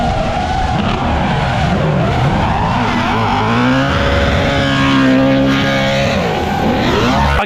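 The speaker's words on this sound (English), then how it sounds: "370Zs drifting around." Nissan 370Z cars drift on a film set, their tires squealing and skidding in long wavering howls over engine roar, loud and continuous throughout.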